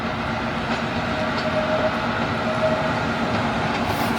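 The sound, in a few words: TTC subway train passing in Greenwood subway yard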